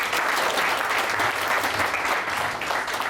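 Steady, dense applause from an audience at the Baroda Road Transport Association annual general meeting, a full room clapping continuously at even loudness throughout with no talk over it.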